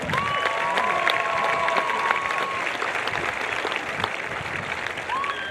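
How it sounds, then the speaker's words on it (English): A crowd applauds the graduating class at an outdoor high school commencement ceremony, with sustained, even clapping and light cheering throughout, and a few voices and whistles rising over it. "Let's give that a round of applause"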